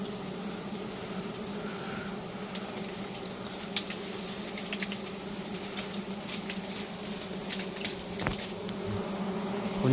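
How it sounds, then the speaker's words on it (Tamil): Honey bees buzz steadily around the listener, a dense continuous drone with occasional louder passes as individual bees fly close by the ear and behind the back while a hive is being worked. "எந்த அளவுக்கு தேன் பூச்சி சுற்றுது பாருங்க."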